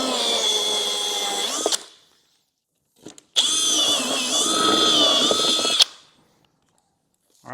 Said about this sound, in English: So I'm going to go ahead and start drilling here.